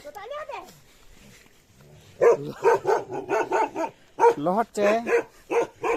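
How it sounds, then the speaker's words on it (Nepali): A family dog in a hillside village home barks repeatedly in a rapid series of close, loud yaps after a quiet opening, with some speech-like sound at the start. "हाम्रो एउटा कुकुर हो बाबा"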